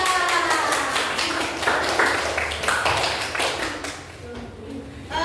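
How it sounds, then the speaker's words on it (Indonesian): A classroom group claps for a presenting team in a training session, brisk overlapping hand claps at close range that thin out toward the end. "Tepuk tangan untuk kelompok 3."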